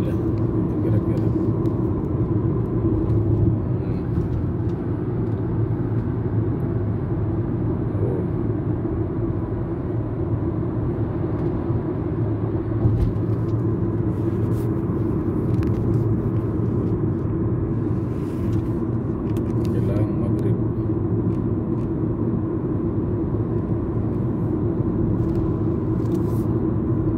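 Steady low rumble of slow, congested evening traffic on a city street in Jeddah, Saudi Arabia, near a bridge around dusk, with continuous engine drone and occasional brief higher noises over the constant hum.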